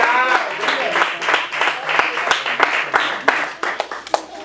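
A church congregation claps during a sermon, uneven scattered applause with separate sharp claps, and a voice carries over it throughout.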